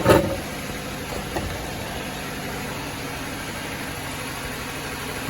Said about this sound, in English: And you see how rough the engine's running all of a sudden now?